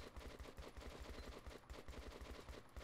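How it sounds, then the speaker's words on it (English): Rapid automatic gunfire in Metro 2033 Redux during a firefight in a building, a steady run of evenly spaced shots that sound faint and distant throughout. "I said go through the building and I get fucking shot at."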